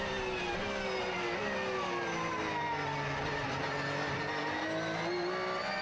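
A GT race car brakes hard into a corner at the Beijing circuit during GT World Challenge Asia qualifying, the engine note falling through downshifts as the tyres lock and chatter. It is heard from the car in a steady, fairly faint stream with no talk.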